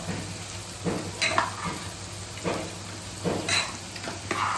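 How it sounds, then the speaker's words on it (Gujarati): A spoon stirs dal makhani made with rajma and urad dal in a pot. Soft scraping strokes recur about five times at a slow, even rhythm over a low simmering hiss, close and quiet. "આ રીતે હલાવતા રહેવું પડશે."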